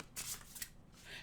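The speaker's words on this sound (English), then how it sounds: "I shuffle it with great caution" A tarot card deck is shuffled, giving a few quick soft riffling bursts, faint and close, with no clear talk.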